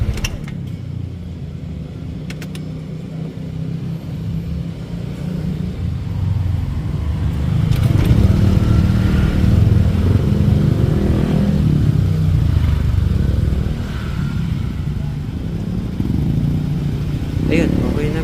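A warmed-up Yamaha Aerox scooter with error 12 and error 37 faults idles with a low, even rumble that grows slightly louder midway, while a person talks nearby.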